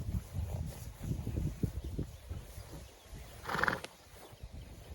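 A horse whinnies once at moderate distance while hooves thud and shuffle nearby on the ground.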